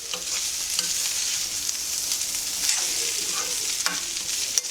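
Amla gooseberries fry with a steady bright sizzle in an iron kadai, broken by scraping and clinking stirs at irregular intervals, close and alone without any talk.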